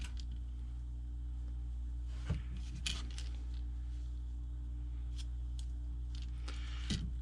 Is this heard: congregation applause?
no